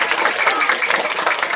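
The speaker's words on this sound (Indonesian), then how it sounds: "Tepuk tangan dulu." Students and guests at a school Maulid Nabi celebration clap steadily, a dense, close wash of applause with faint voices mixed in.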